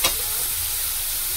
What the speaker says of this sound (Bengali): জিরে পাউডার, লঙ্কার গুঁড়ো, একটু ভালো করে ভেজে নেব।